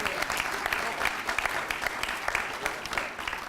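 Sustained applause from an audience at an indoor town hall meeting, dense steady clapping from many hands filling the room at moderate loudness without a break.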